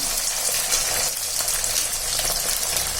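Garlic frying in hot oil with onions for a sundakkai vathal kuzhambu: a steady, loud, continuous sizzle up close with no pauses and no voices.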